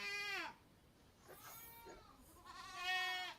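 Goats bleat in a few long, wavering cries, one at the start and a louder, closer one near the end, with a quieter call between and no talking.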